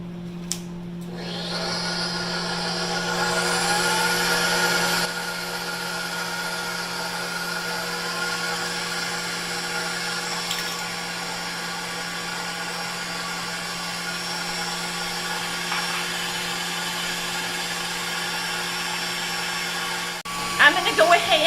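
Electric mixer whipping egg whites for a meringue topping, a steady whirring motor drone running continuously for twenty seconds, slightly higher and louder at the start before settling into an even hum.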